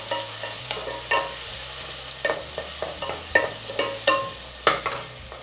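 Medium tomatoes and green chilli sauté in a pan with a gentle sizzle. A spoon stirs and scrapes against the pan in repeated knocking strokes at an uneven rhythm, with no voices.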